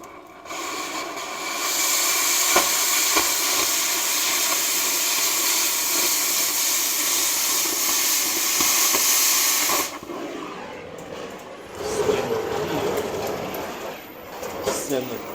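Oxygen cutting torch blasting a strong, steady roaring hiss while cutting metal under a bracket on a custom cab-over truck build, loud and continuous for about ten seconds, then cutting off into quieter, rougher hissing and flame noise.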